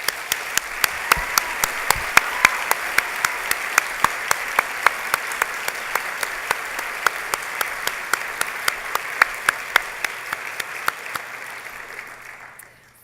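Sustained applause fills a university convocation ceremony hall: many hands clap steadily at full strength with crisp, dense claps throughout, then the sound tapers away at the very end.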